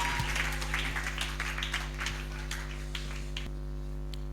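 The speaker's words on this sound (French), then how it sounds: "Give him clap offering and sit down." A church congregation claps together as an offering during a service, a brisk burst of many hands slapping over a constant electrical hum, thinning out toward the end.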